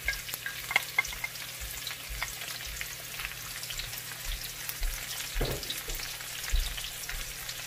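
Red onions sautéing with garlic in a pan, a steady close sizzle and fry with occasional stirring scrapes, no talking.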